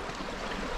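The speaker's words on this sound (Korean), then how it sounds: "계곡 물은 이렇게 흐르고 있어요." A mountain valley stream in a remote deep-country area flows with a steady, even rush of water that fills the short moment without a break.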